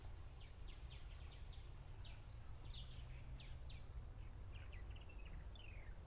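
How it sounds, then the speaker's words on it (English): Faint, scattered purple martin calls with liquid chortling notes drift from overhead in a garden above a steady low outdoor hum, repeating irregularly. "there's a weird chortle from a bird, calling overhead. And those are our purple martins."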